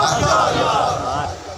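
A crowd at a religious gathering roars back in unison after a slogan is called out, a loud, sustained collective shout that fades slightly toward the end.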